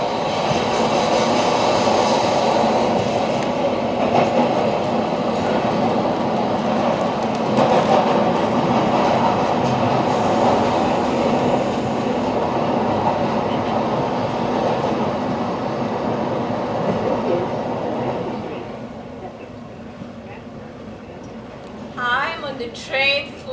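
A passenger train full of people rides along the rails, a loud continuous rumble and rattle of wheels that fades toward the end, where a few faint squeals and knocks appear.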